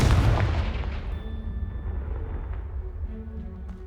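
A Confringo blasting spell cast in Hogwarts Legacy, a heavy explosive boom that bursts loudly at once and then rumbles and fades over a few seconds, with faint lingering debris and ringing tones.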